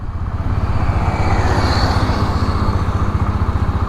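A Hero Glamour 125 motorcycle engine runs in fifth gear at about 20 km/h, a steady low, even thrum with a fine regular pulse, close and loud without talk.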